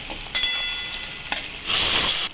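Chopped tomato hits hot oil with spices for ghugni, bursting into sizzling crackles with a few sharp stir spikes, then swelling into a loud, dense hiss of frying toward the end.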